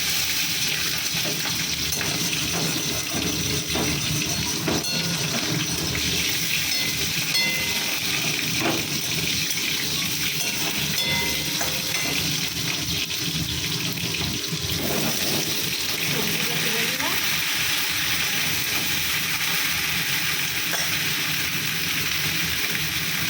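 Tomato dropped into hot oil already tempered with black cumin (kalo jeere), making a continuous, close, moderately loud sizzle with occasional soft clinks of stirring, no voices over it.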